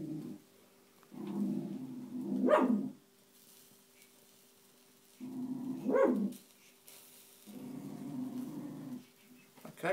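A dog wanting a pig's ear makes a run of muffled, whiny barks and yelps in three bursts separated by pauses, indoors and fairly close, with a faint steady hum underneath.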